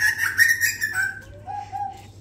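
Birds call while being fed indoors, with high whistling chirps and longer tonal notes close by, over a low steady hum and no talking.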